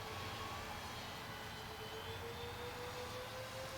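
An Avios Kingtwin 1700 twin-engine RC plane making a high-speed pass at about 80% throttle, a steady distant engine drone with a slight rising pitch, continuous and alone without talk.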